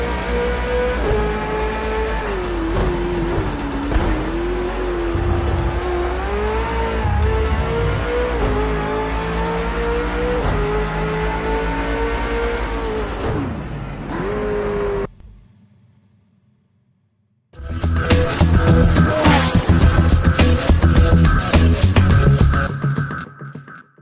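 Race cars running side by side through the 130R corner in Gran Turismo Sport, loud sustained engine whine rising and falling with gear changes, a brief dropout near the end, then a burst of engine roar again.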